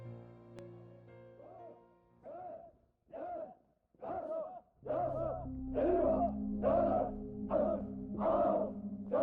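Soldiers jogging in formation shout in rhythmic unison, about ten chanted calls that start sparse and quiet and grow louder and steadier over a low background hum, staged as a radio drama effect.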